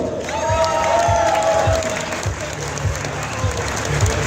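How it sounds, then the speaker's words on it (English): A crowd at a cosplay contest claps steadily for several seconds, a dense wash of applause with some cheering mixed in and faint voices underneath. "Round of applause for Sven Gurley."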